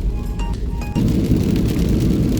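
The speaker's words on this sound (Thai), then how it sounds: "ฝนตกหนักมากนะคะ" Heavy rain pours steadily over a car during a drive, a dense, loud hiss that swells further after the first second and continues without a break, with no talking.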